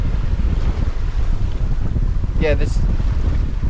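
Strong wind and rough sea buffet a sailboat out on open water, with steady low roar and rushing noise throughout and a brief voice cutting in near the end.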